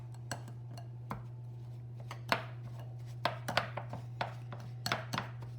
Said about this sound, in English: Or I could use my pastry blender, and I am going to use my pastry blender.